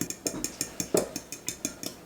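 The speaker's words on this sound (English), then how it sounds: "I'll just grab a fork and mix that up." A fork whisks oil and eggs together in a bowl for whole wheat cornbread, giving a quick, steady run of light metallic clicks and taps, close and fairly quiet, with no talk.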